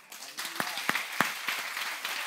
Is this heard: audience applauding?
yes